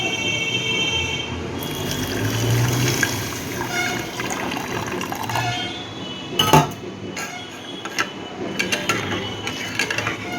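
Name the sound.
washing mung dal lentils with water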